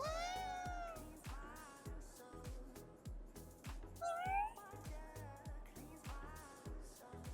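Several cats meow in a video game, a few rising cries scattered over a steady, thumping rhythmic music track.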